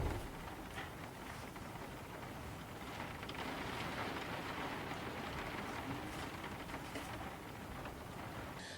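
Steady rain ambience with a soft, constant hiss of drops falling on surfaces, continuous and fairly quiet, used as a study backdrop.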